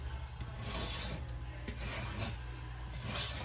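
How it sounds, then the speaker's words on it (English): Steady rasping strokes of a knife blade being sharpened to form a new bevel, repeating in long passes over a low constant hum, close and moderately loud. "what I'm doing is recreating a new bevel on the knife"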